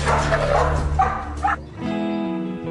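American bulldogs rescued from an abandoned property give a few close, rough barks and yips, followed by a short whimpering whine, loud and fairly near.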